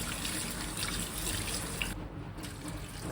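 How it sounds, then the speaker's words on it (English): Tap water runs into a sink to rinse frozen edamame, a steady close splash and trickle that briefly drops off near the end. "I'll clean this edamame with running tap water."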